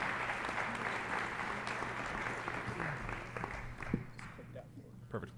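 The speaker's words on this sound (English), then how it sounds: "Now let's give him a big round of applause" Faint applause from an audience at a parent meeting welcomes a new faculty member, a soft continuous patter with some voices mixed in.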